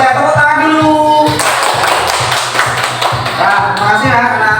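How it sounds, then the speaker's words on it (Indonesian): Children in a classroom clap their hands together in a quick flurry of sharp claps, mixed with voices and chatter around them. "Tepuk tangan dulu."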